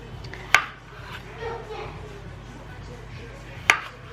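A kitchen knife cuts potatoes into wedges on a board, two sharp, close knocks about three seconds apart over quiet room noise, with faint background voices.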